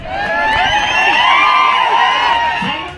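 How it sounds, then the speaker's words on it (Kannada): A large crowd at a Madiga community rally cheers and shouts loudly and steadily, a dense wash of many voices with clapping, carrying on without a break. "ಇದಕ್ಕೆ ಜನಸ್ತೋಮದಿಂದ ಭಾರಿ ಚಪ್ಪಾಳೆಯ ಮೂಲಕ ಬೆಂಬಲ ವ್ಯಕ್ತವಾಯಿತು"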